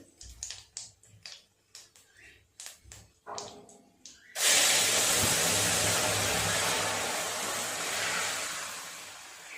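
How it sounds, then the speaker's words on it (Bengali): Curry tipped into hot oil tempered with dried chilli, bay leaves and whole cumin bursts into a loud, sustained steaming sizzle after a few scattered clinks and knocks, the hiss slowly easing but continuing to the end. "তরকারিটা ঢেলে দেবো।"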